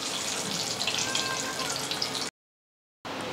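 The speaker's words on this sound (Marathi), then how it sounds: "आता मी सतत हलवतीये आणि मस्त आपले छानपैकी वडे तळून राहिलेले" Sabudana and bhagar vadas fry in hot oil, a dense, close crackling sizzle that runs steadily, breaks off briefly into silence, then resumes.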